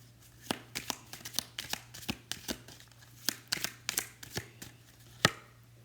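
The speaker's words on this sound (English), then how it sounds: "Oh, a lot of cards fell out." Tarot cards spill out and get shuffled by hand, a quick run of crisp papery slaps and flicks in an uneven rhythm, close and fairly quiet over a low hum.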